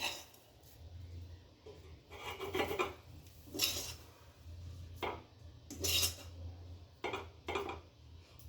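Cooked khud laddu mixture of broken rice is scraped and poured out of a metal pan, with repeated rasping scrapes in bursts separated by short pauses, close and moderately loud, with no talking.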